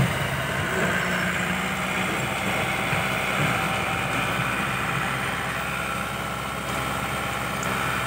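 A Komatsu PC60 excavator's four-cylinder diesel engine idles steadily, a constant low rumbling drone with no change in pace.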